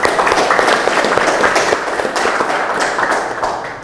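A classroom of students applauding together, dense continuous clapping that holds steady and fades slightly toward the end.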